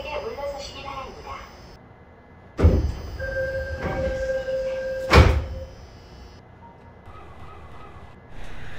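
Sliding doors of a Seoul Line 4 subway train thud shut twice in quick succession amid the rumble of the carriage, with a steady electronic tone sounding between the closings and an announcer's voice heard earlier.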